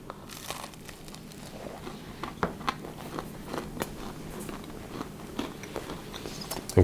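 Bites into a thinly cut, crunchy slice of homemade honey oat bread, with crisp crackling crunches and chewing at close range, no talking.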